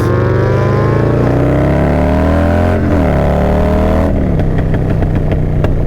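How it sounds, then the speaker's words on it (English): A Harley-Davidson Low Rider S motorcycle engine revs loud and close, its pitch climbing and falling through several throttle blips before settling into a rapid pulsing rumble. "I need to tune out that diesel"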